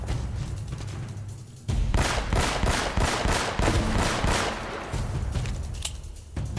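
Rapid bursts of gunfire from Uncharted: Drake's Fortune, a loud, dense stretch of repeated automatic shots after a quieter opening, continuing steadily for several seconds.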